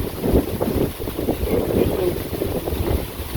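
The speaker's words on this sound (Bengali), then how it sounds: "কি বাতাস, বর্ষাকালের মতো বাতাস ছেড়ে গেছে সুন্দর।" Strong wind buffets the microphone in a steady, rough roar with gusty swells throughout, loud and close.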